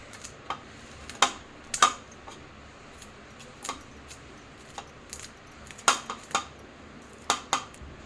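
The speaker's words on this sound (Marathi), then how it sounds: "आता आपल्याला हे दाणे काढून घ्यायचे आहे मक्याचे दाणे आपण आता काढून घेऊया" Corn kernels are pried off two cobs by hand in a kitchen, producing scattered sharp clicks and small taps at irregular intervals, close and fairly quiet with no talk.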